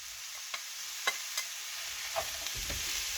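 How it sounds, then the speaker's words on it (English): Mushrooms and onions frying in a pan for creamy pork pasta, a steady low sizzle with a few soft scrapes and stirring knocks, close and fairly quiet, no voices. "Next, we're going to add our mushrooms and our onions."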